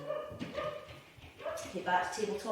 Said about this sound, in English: That's my dog. Obviously somebody's at the door.